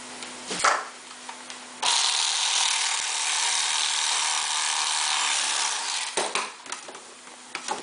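A fillet knife scrapes and cuts along the Y bones of a northern pike at Leech Lake, Minnesota, in a steady, close rasping stroke lasting several seconds, with a few short taps and scrapes before and after.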